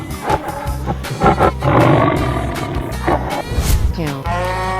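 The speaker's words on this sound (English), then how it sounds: "Tiger." A tiger's loud, close roars and growls, repeated in heavy bursts over a thick, noisy background, with a rising drawn-out cry near the end.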